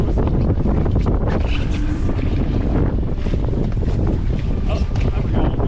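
Strong wind buffeting a junk-rigged sailboat heeling over, with loud, continuous roaring gusts on the microphone and water rushing beneath, sustained and close throughout.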